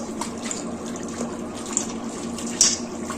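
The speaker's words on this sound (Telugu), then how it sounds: "బాగా ఉప్పు వేసి వాష్ చేస్తానండి ఇది రెండోసారి గట్టిగా వాష్ చేసి" Gongura (sorrel) leaves are washed by hand in salted water, giving a continuous close splashing and trickling of water with small sloshes and no talk.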